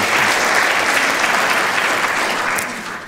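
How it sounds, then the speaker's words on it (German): Strong, dense audience applause in a lecture hall at a public forum, sustained at full volume and then tapering off slightly toward the end. "Sie wollten gerade klatschen."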